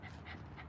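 A dog whimpers close by in a quiet room, giving three soft, high, breathy whines in quick succession.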